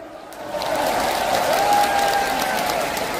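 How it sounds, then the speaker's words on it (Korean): Crowd applause at an outdoor agricultural cooperative anniversary festival concert in Changwon, a dense wash of clapping that swells after a moment and holds steady, with a faint sustained tone running through it. "자, 우리 형님들도 박수 한번 쳐볼까요?"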